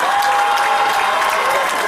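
A dense, loud wash of applause from a concert crowd fills the short stretch, steady from start to finish with no gaps.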